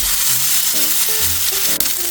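A thick steak sizzles loudly in hot olive oil in a frying pan over high heat, a strong, unbroken hiss right up close with a brief clatter near the end, and no one speaking.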